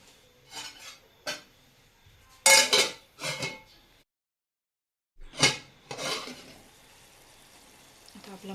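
Yogurt masala stir-fried in a pan for egg curry, heard as scraping and clinking spoon-on-pan strokes in short bursts, with pauses between and one near-silent gap.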